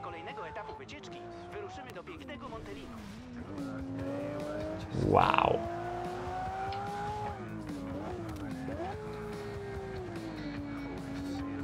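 A four-wheel-drive car in Forza Horizon 2 on Xbox One X accelerates with a steadily climbing engine note and a brief tyre squeal midway, while someone talks and exclaims over the game audio.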